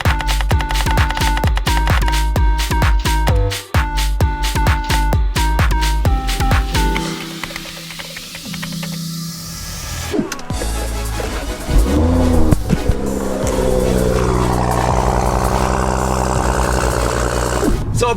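BMW M135i engine and road noise from inside the car while driving, loud and continuous, with gear changes and a rising pitch as it accelerates, followed by a steadier cruise.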